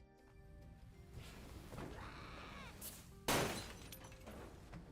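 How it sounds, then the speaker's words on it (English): Glass shatters in a video game with one sudden loud crash and a bright spray of breaking shards, set against low game noise and a faint earlier rattle. "Why was that glass so loud?"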